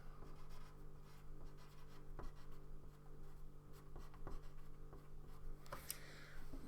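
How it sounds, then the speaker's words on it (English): A pen writes the word concrete by hand during freehand sketching, giving soft, close scratching strokes with a few sharper taps against a low steady hum. "I'm going to write concrete."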